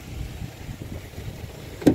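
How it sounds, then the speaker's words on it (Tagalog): A small Honda Brio Amaze VTEC engine idles quietly as a low, steady hum close by, with a brief click near the end. "Maliit ang makina. Tahimik ang andar niya, oh."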